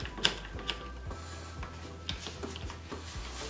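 A vacuum food storage container lid being twisted to lock: close, sharp ratcheting clicks at first, then a series of softer, evenly spaced mechanical ticks, with no talk.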